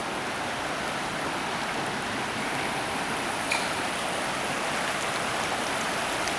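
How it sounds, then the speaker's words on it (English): A steady, continuous rush of flowing water from a nearby babbling brook by a waterfall walkway, holding an even level throughout with no voices. "That's exactly what they mean when they say a babbling brook."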